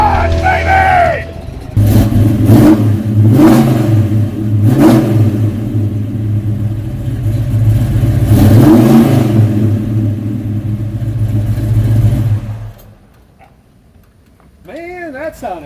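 A 1970 Chevrolet Chevelle SS 396 big-block V8 revs hard in a garage, loud and close, with repeated throttle blips over a rumbling idle before it cuts off near the end.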